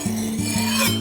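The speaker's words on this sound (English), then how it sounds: "across the stone, like so, to sharpen the head" Leather head knife being sharpened across a stone, with rhythmic rasping strokes about every third of a second, close and fairly loud.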